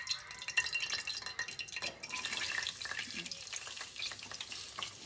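Onions hit hot oil in a pan for mutton curry and set off a lively, crackling sizzle that is stirred and spattered close by throughout.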